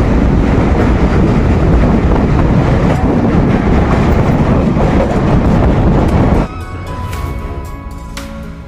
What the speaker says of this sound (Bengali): ট্রেন ছেড়ে দিল, ট্রেন ছেড়ে বেরিয়ে যাচ্ছে